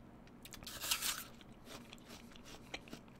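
Crisp bites and crunching chews of a cold SugarBee apple, close and fairly quiet, with a louder burst of crunch near the start followed by softer repeated chewing.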